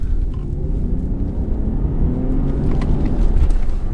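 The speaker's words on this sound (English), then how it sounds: "My goodness, this car just takes off." A 2018 BMW 540i xDrive Touring accelerating hard on a small B road, a steady loud engine and road rumble heard from inside the cabin, building slightly toward the end with no talking.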